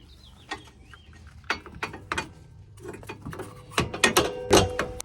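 A hand ratchet fitted with a 19mm socket tightens the bottom rear shock bolt on a Nissan Armada during a lift kit install, giving several short bursts of sharp clicking close by, with pauses between strokes.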